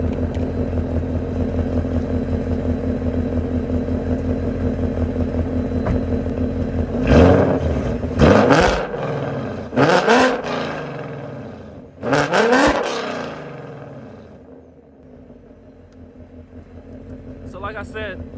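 A Ford Mustang 5.0 V8 with a newly fitted exhaust idles with a deep burble, then revs sharply in several quick bursts before settling back, with someone talking over parts of it.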